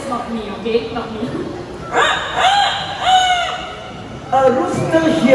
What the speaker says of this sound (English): A rooster here in the park.